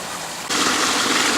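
Water rushes from a garden pond water feature just after it is switched on. A steady, fairly loud splashing flow starts abruptly about halfway through and carries on evenly to the end.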